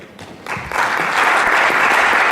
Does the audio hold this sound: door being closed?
no